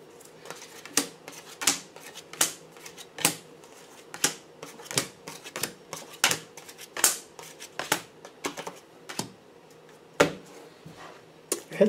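Tarot cards are shuffled by hand in a steady series of crisp riffling snaps and slaps, close up, repeating roughly every half second to second with soft rustling between, and no talking.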